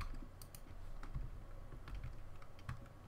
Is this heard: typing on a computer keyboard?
yes